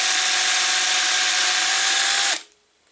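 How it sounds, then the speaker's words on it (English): A power drill boring a hole straight through candle wax, a loud, steady whirring grind close up that runs for a couple of seconds before cutting off abruptly into quiet. "So I'm just drilling a hole straight through this wax."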